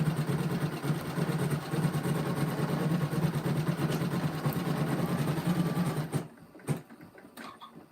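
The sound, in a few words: sewing machine bobbin winder motor winding yellow thread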